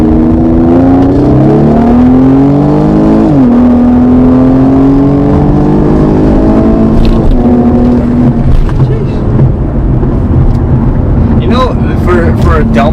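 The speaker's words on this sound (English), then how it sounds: "I'm going to floor it again if you want a second gear pull." Tuned Infiniti Q50 with downpipe on 93 fuel accelerating hard through second gear, a loud, close engine drone rising steadily in pitch, briefly dipping at a shift, then climbing again with cabin rattles.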